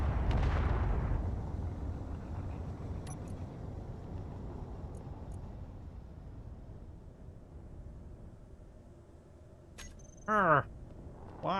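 Automated turret in Underground Alone firing a heavy blast that rolls off into a long fading rumble, followed near the end by a short burst of sharp electronic pulses.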